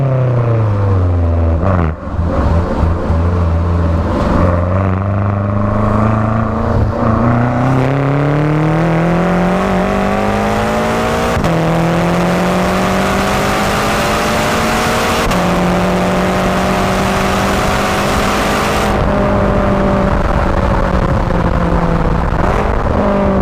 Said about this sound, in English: But yeah, this car sounds bloody lovely.